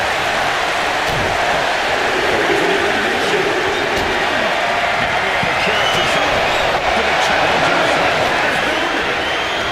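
A huge arena crowd roars and cheers continuously during a Royal Rumble match in WWE 2K25, a dense, steady wall of noise from start to finish.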